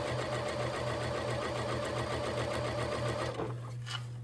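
A sewing machine runs at a steady, fast rattling whir, close and loud, then cuts off near the end, leaving a faint hum.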